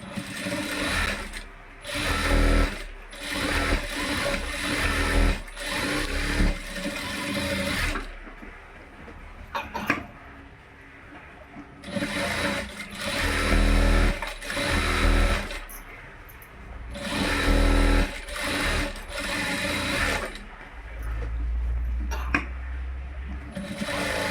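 A sewing machine stitches an embroidered blouse in loud, rapid bursts of mechanical whirring and clatter, separated by short pauses as the fabric is repositioned.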